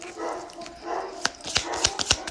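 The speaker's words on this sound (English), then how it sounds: "I don't know why my dogs are barking." Several dogs bark in short sharp bursts, five or so distinct barks near the end, over a steady murmur of background noise in a home.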